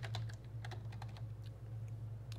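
Brisk typing on a computer keyboard while writing Java code, a close, irregular run of light key clicks over a steady low hum, with no talking.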